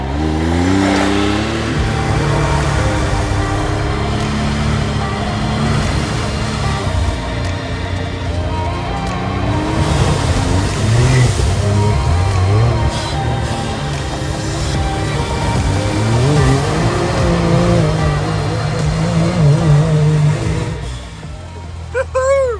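A Can-Am Maverick X3 side-by-side engine revs steadily while driving off-road in the Maine backwoods, a loud, continuous mid-pitched drone that swells and eases, with voices talking over it throughout.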